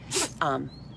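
A single sudden sneeze bursts out close by, a sharp noisy blast followed by a brief voiced tail, with quiet room tone afterward.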